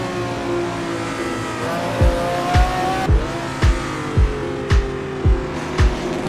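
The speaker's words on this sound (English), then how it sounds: "Oh, we're sliding out for sure." Formula racing car on a circuit sliding wide under load, its engine droning steadily while a run of sharp, regularly spaced bursts and tire squeal repeat about every half second, close and loud with no talk.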